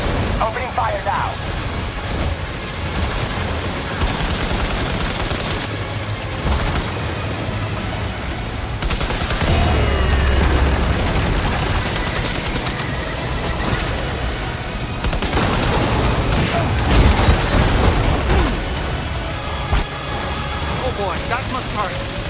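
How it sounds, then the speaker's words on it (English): Gunfire in the video game Death Stranding 2, a dense, continuous barrage of shots and impacts with music and voices layered over it throughout. "Opening fire now."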